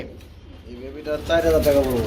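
Pigeons coo in low, rolling calls at a pigeon farm, building louder in the second half, close by, mixed with speech.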